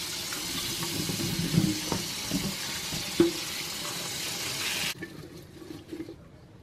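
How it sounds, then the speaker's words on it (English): Kitchen tap water runs steadily over potatoes being rinsed in a sink, a continuous close splashing hiss with small clunks, then the flow cuts off leaving quiet handling sounds. "I'm going to rinse the potatoes before I peel them."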